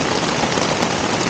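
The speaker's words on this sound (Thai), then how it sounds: "นี่คือเสียงฝนชัดมากนะครับก็คือฝนตกเนี่ย" Heavy rain drums on a camping tent at a coastal hillside campsite in southern Thailand, a dense, loud, unbroken patter of drops close around the listener with no voices.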